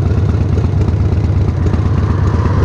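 A Harley Davidson Heritage Softail motorcycle with sidecar idles close by, a loud, even low chugging with a steady rapid pulse and no talking.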